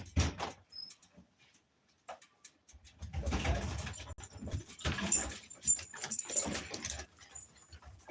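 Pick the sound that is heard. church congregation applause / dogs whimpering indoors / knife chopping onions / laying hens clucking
dogs whimpering indoors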